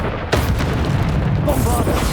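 A Bombarda spell detonates in Hogwarts Legacy, a sudden loud boom that hits sharply and then rolls into a sustained rumbling blast, with a voice speaking over it.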